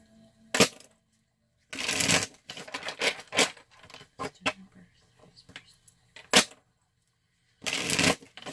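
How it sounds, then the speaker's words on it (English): Tarot cards are shuffled by hand in several quick riffling bursts with soft snaps and shuffles between them, close up, with short silent gaps. "It helps if you take them, mix them up good, shuffle them."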